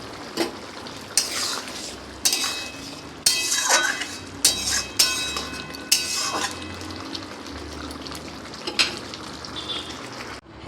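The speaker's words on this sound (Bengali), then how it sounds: "এবার এটাকে আমি আরও একবার নাড়াচাড়া করে নেব।" A spoon stirs a tangy vegetable and fish curry of pumpkin, pointed gourd and stems in a pan, with scraping clinks and soft sizzling that come in irregular bursts, close and moderately quiet.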